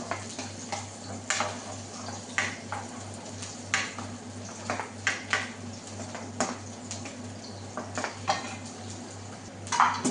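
Onions fry in oil in a pan while a dal makhani is cooked. A low steady sizzle runs underneath, with frequent close utensil clicks and scrapes against the pan and a constant low hum.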